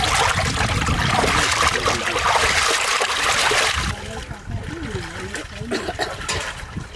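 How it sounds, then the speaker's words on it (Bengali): Hilsa fish being rinsed in water: a loud, steady rush of pouring, splashing water that drops off sharply partway, leaving softer trickles and sloshing alone. "মাছটা ধুয়ে নেবো ফাইন করে, ইলিশ মাছ তো বেশি ধোয়া লাগে না"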